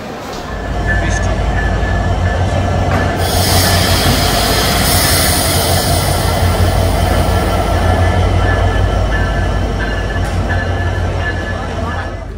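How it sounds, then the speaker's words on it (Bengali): Inside a moving passenger train with AC berths, a loud, steady rumble of wheels and carriage fills the whole stretch, with faint voices beneath. "এটা হচ্ছে ট্রেনের ভিতরের দিক।"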